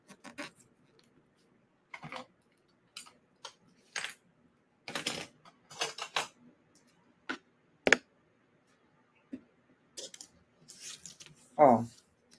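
Scissors snip a thin ribbon during a craft project making personalized caramel candies, with a scattered series of sharp, close clicks separated by quiet gaps.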